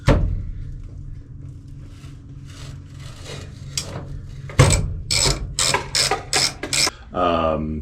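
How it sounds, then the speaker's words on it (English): A ratcheting screwdriver fitted with a socket works loose a flat head screw holding a tire iron bracket, with soft scraping at first, then a run of loud, sharp, rhythmic ratchet clicks close to the microphone, and a brief buzzy rattle at the end. "I need to remove that last weird flat head screw that is holding in the bracket that holds the tire iron into place."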